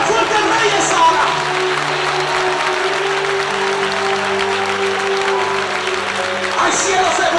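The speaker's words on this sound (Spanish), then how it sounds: "Alguien puede aplaudir más fuerte al Rey en esta hora." Loud, sustained clapping from a Pentecostal church congregation fills the space from start to finish, a dense roar of hands over steady held musical tones, with a brief swell near the end.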